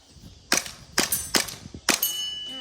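An airsoft gun firing at targets in a backyard course: four sharp metallic clangs at uneven intervals as pellets strike steel, each ringing briefly, close and loud, with no talk.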